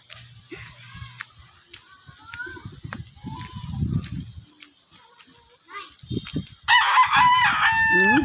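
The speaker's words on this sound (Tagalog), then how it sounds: "Ang manok." Chickens cluck intermittently at a rural provincial home, then a rooster crows loudly and close by, with people talking between the calls.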